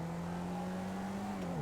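A Mustang-style muscle car in GTA V cruises with a steady, smooth engine hum and only a faint exhaust note. The pitch holds level and then dips slightly near the end.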